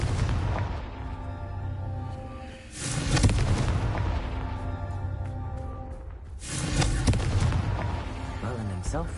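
The Confringo blasting curse goes off in Hogwarts Legacy, with two heavy booming explosions several seconds apart over a rumbling game soundtrack.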